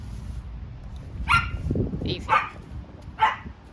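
A dog barks at a garden fence on a windy day: three sharp barks come at roughly one-second intervals, fairly close, and a person briefly speaks over the outdoor background.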